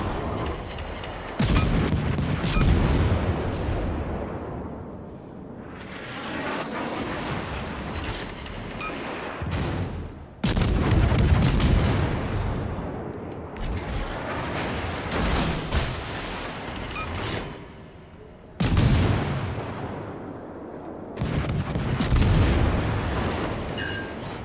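Heavy naval artillery from warships in World of Warships, booming salvos roughly every eight to ten seconds, each a loud blast that rolls off into a long rumbling decay.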